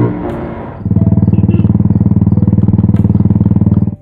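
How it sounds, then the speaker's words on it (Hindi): A motorcycle engine recorded with a Hollyland Lark M2 microphone: after a brief mixed start, a loud, close, steady rapid thumping idle fills the rest of the clip, with no talking. "अगर आप मोटो व्लॉगर है और आपको आपके बाइक का साउंड इस तरीके से रिकॉर्ड करना है,"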